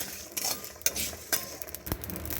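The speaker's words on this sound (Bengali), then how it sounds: "এটাকে একটু শুকনো খোলায় হালকা করে ভেজে নেব যাতে পুড়ে না যায়" Torn bay leaf pieces dry-roasting in a pan on a low flame, with soft faint crackles and a few scraping stirs of a utensil, close and quiet.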